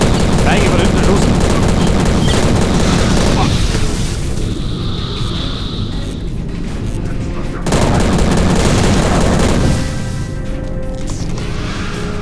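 Heavy gunfire and explosions in the video game Prey (2006), dense rattling bursts with a quieter stretch in the middle, while a voice talks over the action.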